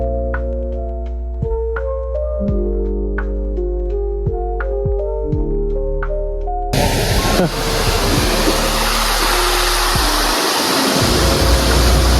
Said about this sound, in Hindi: सो गाइस देखो छोटे छोटे झरने प्यारे प्यारे।